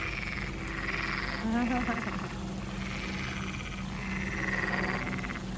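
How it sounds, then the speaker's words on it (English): Frogs croak in a loud, continuous chorus, with bursts of rattling calls rising and falling, in the University Botanical Gardens in Coimbra. "Oh, you hear the frogs? Wow, listen to that."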